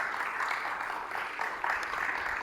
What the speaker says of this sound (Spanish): vamos a recibir con un aplauso a nuestro pastor Víctor Achila